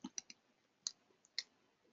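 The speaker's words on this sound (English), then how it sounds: "So we double click on that." Computer mouse clicks, close and crisp: a quick series of light taps, including a fast double-click, in a quiet room.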